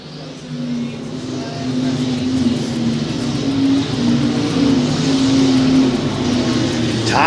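Several B Mod stock cars race down the back straightaway of a speedway, a loud, steady engine roar holding throughout, swelling slightly as the pack passes, with a faint announcer voice underneath.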